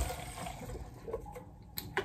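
Water runs from a tap into a bottle as it is filled indoors, a faint, close, steady splashing and trickling with a few small clinks.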